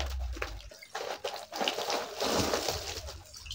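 Cool water is poured over a person bathing outdoors, with splashing gushes in uneven bursts that come close and fairly loud, then settle into a steadier pour.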